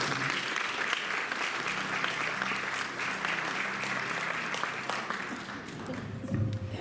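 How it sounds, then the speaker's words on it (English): Steady applause from an audience gathered at a memorial tribute, sustained and fairly distant for several seconds without speech. "round of applause for Heidi"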